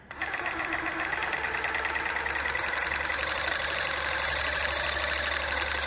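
A spray can shaker machine runs at slow speed, giving a steady, loud mechanical whir and rattle that holds evenly throughout with no pauses.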